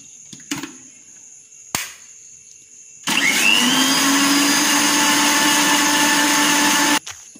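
A kitchen blender whirs steadily for about four seconds, mixing two spoons of vinegar into a sandwich dressing; the motor noise starts abruptly and cuts off, preceded by a couple of brief knocks.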